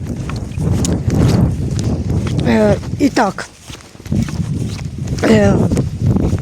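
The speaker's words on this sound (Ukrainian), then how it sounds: "вибачте, у нас вітер." Gusty wind buffets the microphone with low rumbling bursts while someone speaks over it.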